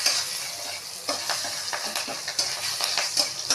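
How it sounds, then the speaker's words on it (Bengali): Garlic and green chillies frying in a pan, a steady close sizzle with bright crackles and repeated stirring scrapes, no voices. "রসুনগুলোকে ভালো করে ভেজে নেওয়া হবে"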